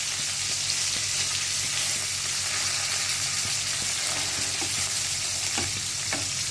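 Onions and green chillies fry in a pan with a loud, steady sizzle that runs throughout, joined by a few small scraping and stirring knocks near the end.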